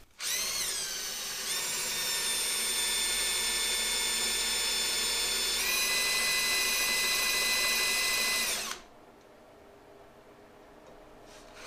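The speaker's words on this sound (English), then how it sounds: "I end up throwing a countersink on here, in here, and that way I have a surface to weld to from the back." A drill whines loud and steady for about eight seconds while cutting a countersink in a metal seat-release latch part for a CX500 motorcycle build. Its pitch shifts slightly partway through, and then it cuts off into quiet.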